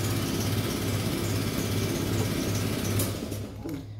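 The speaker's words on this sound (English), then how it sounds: "Now once you get that pretty well removed with an impact, it will lift straight up." An air impact wrench working the clutch basket nut on a Yamaha Raptor 700, a loud close continuous buzzing hammer rattle lasting about three seconds before tapering off.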